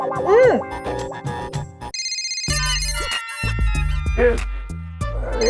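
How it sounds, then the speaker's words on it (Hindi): An electronic phone ringtone chimes in repeated melodic bursts, loud and close, with a voice speaking briefly at the start. "रात को भी चैन नहीं लेने देते ये लोग। मेहता का फोन"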